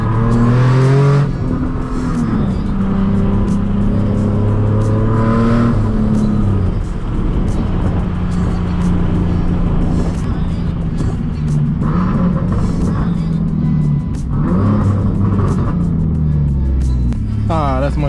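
A car engine revs and drives steadily throughout, a low continuous rumble with rising and falling pitch, while someone talks over it for most of the time.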